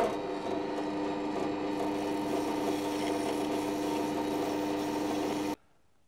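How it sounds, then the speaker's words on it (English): A wire brush attachment spinning on a drill press scuffs brass tubes, a steady close abrasive whir with rubbing grit that runs continuously for several seconds and then cuts off abruptly. "Now with the wire brush attachment on my drill press, I'm just going to rough up the tubes ready for gluing."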